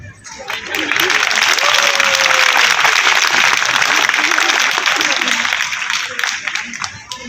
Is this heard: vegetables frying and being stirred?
no